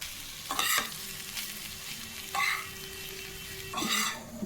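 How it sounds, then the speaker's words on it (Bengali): Grated egg stirred through a lightly fried potato filling for bread chops: a low steady sizzle in the pan broken by three distinct bursts of spoon scraping and stirring, close by and without speech. "এবার দিয়ে দিলাম গ্রেট করা ডিমটা, দিয়ে শুধু নাড়াচাড়া করে নামিয়ে দেবো।"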